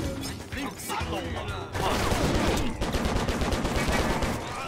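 Dense gunfire in the video game Stranglehold, a loud, sustained stream of rapid shots and impacts that continues nearly the whole time, with game voices mixed in.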